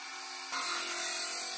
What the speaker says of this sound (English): This cut right here, I'm going to plunge my saw down in and get that.